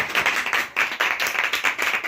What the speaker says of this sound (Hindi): जोरदार तालियां यीशु के जलाल।